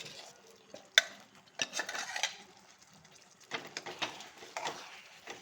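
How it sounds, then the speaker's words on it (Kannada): Jaggery, moong dal and rice being stirred together for sweet pongal, a spoon scraping and clinking against the pot in soft, irregular strokes, close and quiet. "ಈಗ ಇದು ಇದಕ್ಕೆ ಮಿಕ್ಸ್ ಮಾಡ್ಕೊಳ್ಳೋಣ"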